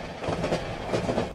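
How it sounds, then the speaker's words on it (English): A train ambience from Zorin OS background sounds gives a steady rumbling roll with soft rhythmic clickety-clack of wheels on rails, continuous and moderately loud before stopping abruptly. "Train."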